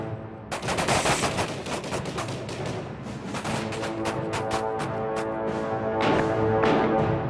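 Rapid rifle and pistol gunfire from close-quarters shooting drills at a range, a dense run of sharp overlapping shots with repeated bursts through the whole stretch, loud and near, with no talking.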